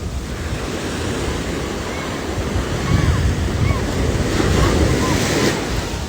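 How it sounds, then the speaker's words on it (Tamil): Ocean surf rolls and crashes continuously against the shore, mixed with steady wind noise buffeting the microphone. "இந்த கடல் சத்தத்தை கேட்கும்போது கடல்கிட்ட பேசுகிற மாதிரி எனக்கு ஒரு ஃபீல் இருக்குது"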